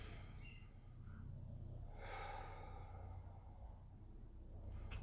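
A person breathing deeply during a hip flexor stretch in a home workout, one long slow inhale and exhale, close and soft, heard alone without talk.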